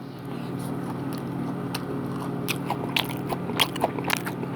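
Close-up crunchy chewing on crispy fried chicken, with sharp crackling bites growing louder toward the end over a faint background hum.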